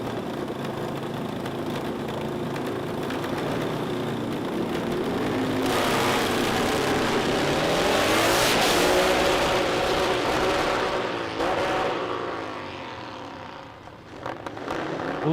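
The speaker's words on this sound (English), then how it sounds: "Street bagger pulling up now." Street bagger motorcycles at a Nitro Nationals drag race rumble and roar in a steady, loud wash of engine noise that swells and then eases, heard from a distance across the strip.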